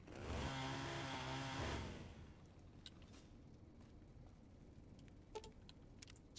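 A chainsaw in the video game Fallout New Vegas revs loudly for about two seconds with a harsh buzzing drone, then cuts off, leaving quiet background with a few faint clicks and taps.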